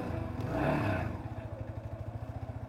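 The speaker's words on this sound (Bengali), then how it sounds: "তো বাইকটার সাউন্ড অসাধারণ" A Yamaha motorcycle engine runs close by, a steady rapid low thrum with a swell of louder revving early on before settling into an even idle-like pulse.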